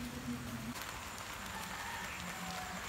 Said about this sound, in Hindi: लो जी बारिश बहुत तेज़ हो गई है।